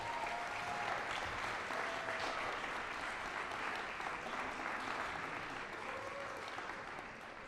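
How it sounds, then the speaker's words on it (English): An audience claps steadily for award recipients at a city awards ceremony, a dense, sustained round of applause from a large crowd that tapers slightly toward the end. "Please help me congratulate all of our recipients one more time with a great round of applause."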